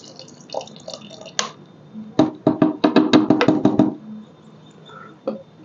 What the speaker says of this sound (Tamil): இதை நம்ம வீட்டில் தயார் பண்ண தயிர், இதையும் அதுக்குள்ளே ஊற்றணுங்க.